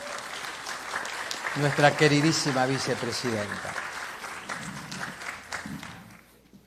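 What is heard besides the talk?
audience applause for the vice-president at a conference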